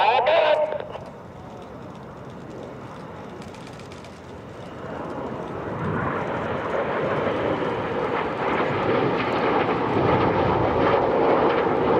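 RAF Red Arrows jets fly aerobatic barrel rolls at EAA AirVenture, a loud sustained jet engine roar that swells and builds over several seconds, with a commentator's voice talking over it.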